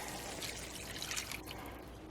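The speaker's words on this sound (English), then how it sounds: "So we're going to add the rest of our broth in here." Broth being poured into a pot of steamed, tender vegetables gives a steady, close trickling and splashing of liquid that runs throughout without pause.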